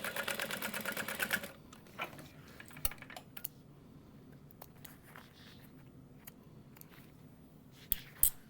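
Sewing machine top stitching through the layered seam of a small pieced tote bag, a rapid steady whirring run up close for about a second and a half, then stopping, followed by quiet handling clicks and rustles of fabric.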